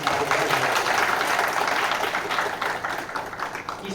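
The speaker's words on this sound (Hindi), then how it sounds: "मैं चाहूँगा उनके सम्मान के लिए एक बार जोरदार तालियों से उनका।" An audience at a Hindi poetry gathering (kavi sammelan) claps steadily and fairly loudly for a few seconds, a dense even wash of many hands that eases slightly toward the end.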